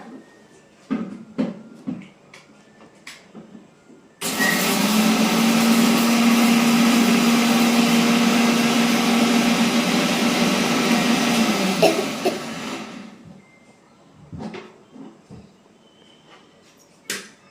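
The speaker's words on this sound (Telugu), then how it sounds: "అప్పుడు మిక్సీ కొట్టేసుకోవాలన్నమాట" A mixer grinder in a home kitchen starts abruptly, whirs at a loud, steady high pitch for about eight seconds, then winds down, with faint clatter and knocks before and after.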